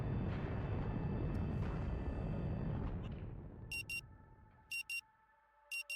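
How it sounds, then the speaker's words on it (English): A loud rumbling roar fades out, then a shrill electronic alarm in the video game Rue Valley rings in short paired bursts over a faint steady hum. "The frantic sound of the alarm nudges you back to the present."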